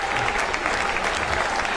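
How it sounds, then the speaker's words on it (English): Rapturous applause from a rugby league crowd at a Halifax versus Keighley match, a steady wash of clapping and cheering heard at a distance across the ground. "rapturous applause"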